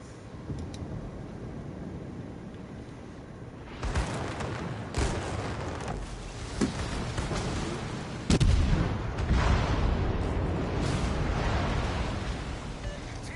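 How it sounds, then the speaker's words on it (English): Warship artillery in a PS4 naval battle game, heavy booming shots fired at irregular intervals over a constant low rumble, some blasts loud and close, others softer and more distant. "Concentrate fire on the enemy warship."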